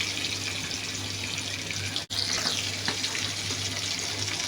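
Koi fish frying in oil on low heat, a dense continuous sizzle heard close and evenly loud, briefly cut off by a sharp gap partway through before resuming.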